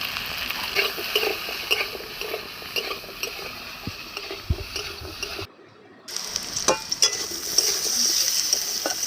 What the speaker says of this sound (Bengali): নুন হলুদ দিয়ে ভালো করে নাড়াচাড়া করে ভাজা ভাজা করে নেব।